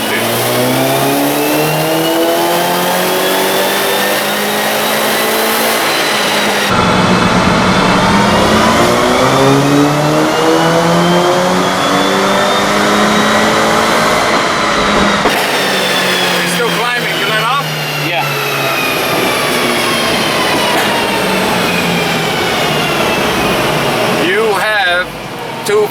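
A Stage 2 MK6 VW GTI revving hard on a dyno, loud rising engine sweeps climbing through the gears in three long pulls, close and continuous, with voices talking underneath.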